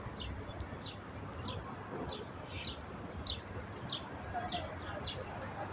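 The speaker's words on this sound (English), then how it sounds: "Hear the birds" Small birds chirp repeatedly in short, high tweets over a steady outdoor hiss near water and trees, fairly distant and continuous.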